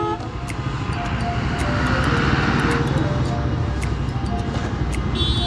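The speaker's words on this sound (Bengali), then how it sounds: "এটার পাওয়ারফুল একটা ইঞ্জিন দেওয়া আছে, GXXR এর ডগ ইঞ্জিন, FI 4 ভালভের ইঞ্জিন" A Suzuki Bandit motorcycle with a fuel-injected four-valve GSX-R engine runs on a commute ride, giving a loud, steady droning roar mixed with wind rush, with no clear breaks.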